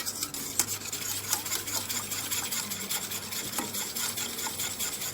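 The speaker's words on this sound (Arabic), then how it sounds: "عايزة تقلبيها انتي زي ما انا بقلبها كده" A spoon scrapes and stirs continuously through a homemade cooking cream mixture of milk and butter in a pot, soft and close, with no voices.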